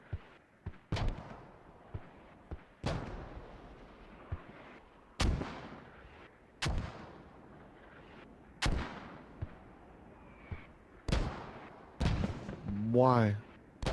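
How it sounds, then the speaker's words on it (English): A mortar barrage in the military shooter game Squad, with about eight heavy booming impacts landing at irregular intervals, each followed by a long rumbling decay. A whistling, sweeping tone rises near the end. "it's a really good mortar barrage. It's just in the wrong freaking position."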